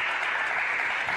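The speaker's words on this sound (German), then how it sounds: "Jetzt hier die Anfeuerungsrufe von seinen Teamkameraden, von den Zuschauern." Teammates and spectators cheer at a table tennis match between Kanak Jha and Jakub Dyjas, a steady, dense crowd roar that holds evenly and fairly loud from start to finish with no pauses.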